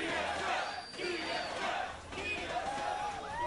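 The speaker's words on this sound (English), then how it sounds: "that was the 3 out of 10 TSM chant for the crowd" An esports arena crowd at a League of Legends NA LCS match chants for TSM in rhythmic waves of massed voices, fairly subdued and echoing through the hall.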